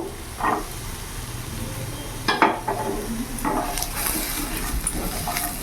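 Cut potatoes go into a frying pan with a little oil, where fish is cooking with eggplant, bringing a soft sizzle, a few utensil clinks and stirring scrapes, moderately close.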